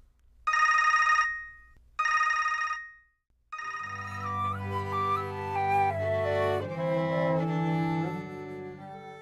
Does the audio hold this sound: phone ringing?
yes